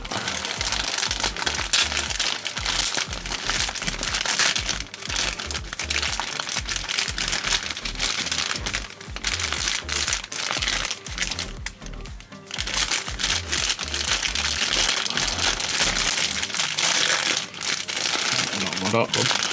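A plastic bag holding MegaSquirt 1 V2.2 engine-management kit parts, such as screws and connectors, is opened, making loud continuous crinkling and crumpling close to the microphone with only brief pauses.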